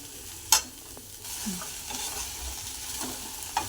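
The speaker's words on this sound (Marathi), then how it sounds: "आधी भेंडी भाजून घ्यायची आहे थोडंसं तेल घालायचं आणि भेंडी छानशी अशी भाजून घ्यायची" Sliced okra frying in a little oil in a pan, a faint sizzle broken by a few sharp clinks and scraping stirs, with no talk.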